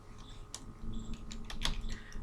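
Keystrokes on a computer keyboard while entering an Excel formula, a few quick taps spread over about two seconds, close and moderately soft, with no talking.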